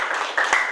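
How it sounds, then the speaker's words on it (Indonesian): A short, dense burst of applause at a school gathering at SMA Negeri 12 Kota Depok, heard on its own as a steady wash of clapping with no voices over it. "Tepuk tangannya."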